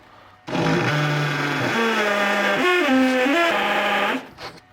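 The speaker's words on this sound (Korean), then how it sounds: "스텝 비트를 이용을 해가지고" A power drill with a step bit bores a hole through a wooden desk for a USB socket, giving a loud, steady whine whose pitch steps up and down as the bit cuts, running alone for about four seconds.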